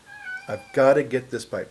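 A pet cat meows close by, a short tonal cry near the start, while someone talks over and after it about getting a pipe.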